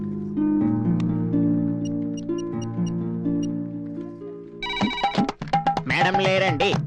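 An outgoing phone call rings on the line with a steady, repeating ring pattern over background music, and a voice then answers and speaks over the end.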